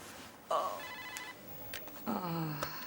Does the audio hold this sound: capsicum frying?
no